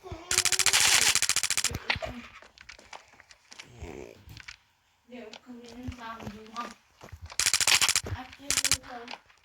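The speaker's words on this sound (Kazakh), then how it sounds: "Мынау өз бетімен ата беретін болды ғой." Automatic gunfire from weapons in the mobile shooter game Standoff 2, loud rapid bursts at the start and again near the end, with someone talking in between.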